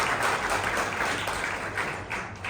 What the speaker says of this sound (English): I want us to give Zama in particular a round of applause